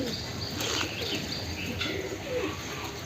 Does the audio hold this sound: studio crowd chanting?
no